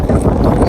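Coastal wind on a hiking trail on Santo Antão, Cape Verde, buffeting the microphone as a loud, steady low rumble with no break.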